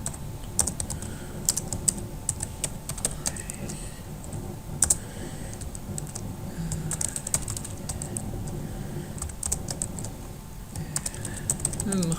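Steady computer keyboard typing while entering names into a PHP array during a coding lesson, clicks coming in quick uneven bursts over a low background hum and faint voice.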